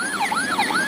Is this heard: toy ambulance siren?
yes